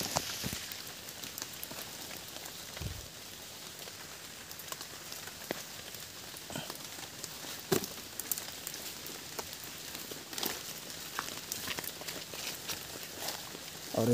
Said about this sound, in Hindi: थोड़ा थोड़ा बारिश हो रहा है